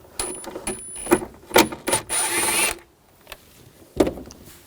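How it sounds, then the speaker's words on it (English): A 10mm socket ratchet loosens a nut on a 2000-2006 BMW X5 during rear shock replacement. Short, close bursts of metallic clicking come in quick spurts with brief pauses, then one last burst after a quiet gap. "I'm going to use a 10mm socket."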